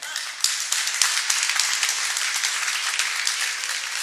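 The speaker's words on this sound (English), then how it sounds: "Hey, let's give Paul a big round of applause." A small audience at a social media breakfast gathering claps for a departing guest, crisp individual hand claps blending into steady applause throughout.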